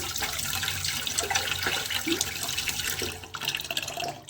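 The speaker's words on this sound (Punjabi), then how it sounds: "ਇਹਨੂੰ ਆਪਾਂ ਧੋ ਲਾਂਗੇ ਇਹ ਚਾਹ ਪੱਤੀ ਨੂੰ" Water runs steadily from a tap over used tea leaves being rinsed, a constant splashing rush with small shifts as the leaves are stirred, close by and without talk.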